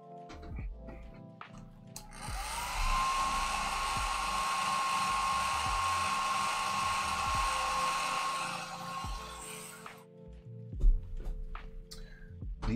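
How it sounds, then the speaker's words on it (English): A hair dryer whirs steadily at close range for several seconds with a high whine, then cuts off, leaving faint handling clicks, while drying weathering on an HO scale model diesel locomotive. "Hit it with a hairdryer real quick."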